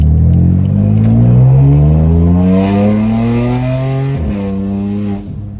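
A BMW F80 fitted with VRSF intakes, charge pipes and a top-mounted intercooler accelerates hard on a test drive, its engine a loud, close roar climbing steadily in pitch before a gear change.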